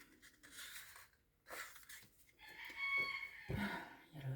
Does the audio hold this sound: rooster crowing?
yes